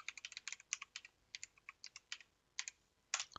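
Quick keystrokes on a computer keyboard entering an IP address into a Windows Run box, a fast irregular run of crisp clicks with brief pauses and a final burst, close and quiet with no talking.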